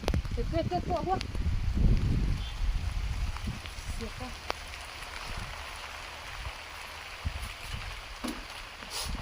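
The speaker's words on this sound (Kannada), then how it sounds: "ನೋಡಿ ಮಳೆ ಬರ್ತಾ ಇದೆ" Rain patters steadily on a surface, with a few voices talking briefly at the start before the rainfall continues on its own.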